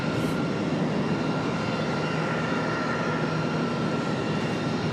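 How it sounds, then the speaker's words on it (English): An airliner arriving at Charlotte airport, a steady broadband jet engine roar holding constant from start to finish, moderately loud with no talk over it. "Got another arrival coming up."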